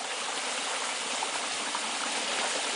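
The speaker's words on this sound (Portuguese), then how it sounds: "tem um córrego aqui para pegar água" A mountain stream flows beside a hiking trail, a steady, close rushing and babbling of water that fills the whole moment without pause.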